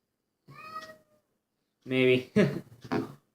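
A pet cat meows close by, one short call followed by a louder cluster of two or three meows, plain and alone with no voices.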